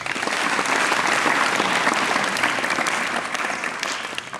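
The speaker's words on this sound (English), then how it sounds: "Clapping." A large audience at an educational session bursts into sustained, dense clapping, loud and even for several seconds before starting to thin toward the end.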